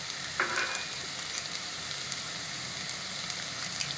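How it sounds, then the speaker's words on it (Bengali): Cashews go into masala frying in a pan for butter chicken. A brief rustling drop sits over a steady, close sizzle that carries on without talk. "কাজু বাদামগুলো দিয়ে দিলাম আমি"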